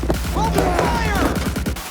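Rapid bursts of automatic gunfire in the video game Cyberpunk 2077, sharp repeated cracks layered with shouting voices and clattering impacts, loud and close throughout.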